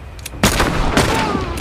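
Gunfire in The Last of Us Part II during a combat fight: a sharp, loud shot bursts in near the start and a second blast follows about half a second later, each trailing into a lingering noisy tail.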